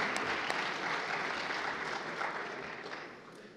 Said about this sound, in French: On a le temps de l'applaudir.